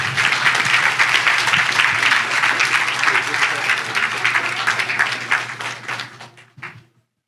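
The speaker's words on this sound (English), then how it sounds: "if we could all just help give them a round of applause" Sustained round of applause from a conference audience at a clinical research and engagement event, dense steady clapping filling the room for about six seconds before tapering off and ending abruptly.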